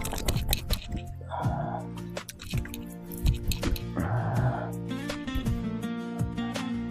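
Water splashes as someone washes their face in the morning, two distinct splashy bursts of cupped water hitting skin, with dripping, close and moderately loud, mixed with people talking nearby.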